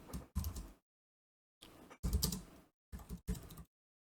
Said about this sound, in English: Apologies about the typing.